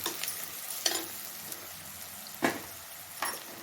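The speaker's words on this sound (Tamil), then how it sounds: "இந்த காயை போட்டு நல்லா வதக்கி விடணும்" Broad beans and vegetables sautéing in hot oil with asafoetida for a village-style kara kuzhambu, a soft steady sizzle broken by four distinct spatula stirs and scrapes, close and alone.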